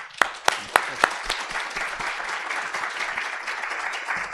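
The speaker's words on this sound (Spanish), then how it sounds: "les pido un aplauso" Audience applause after a talk on the use of artificial intelligence, starting with a few sharp loud claps and settling into steady dense clapping from a moderate-sized crowd, with no talking.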